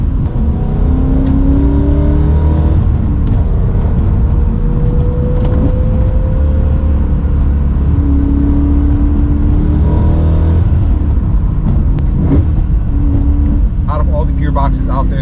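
BMW E39 M5 with a Dinan Stage 2 V8 and manual gearbox driving, a loud continuous engine drone with rising and falling rev tones through the exhaust, steady and close, with a voice talking over it.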